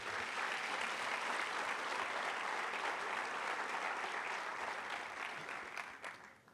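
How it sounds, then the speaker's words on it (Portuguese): Moderately quiet, sustained applause from a church congregation during a sermon, a dense even clatter of clapping that fades out in the final second. "Dê um aplauso ao Senhor Jesus."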